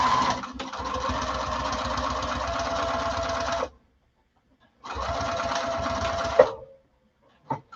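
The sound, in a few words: sewing machine stitching fabric seam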